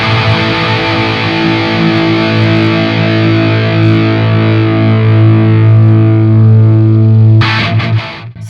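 Electric guitar through a LEKATO Tank G multi-effects processor on preset 1, a loud, heavily distorted sustained chord ringing steadily before being cut off near the end.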